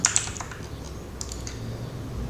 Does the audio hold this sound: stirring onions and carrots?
no